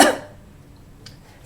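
A single short cough up close, a sharp burst at the start followed by quiet room tone and faint noises.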